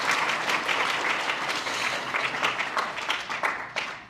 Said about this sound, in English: So one more round of applause for Dawn and her staff.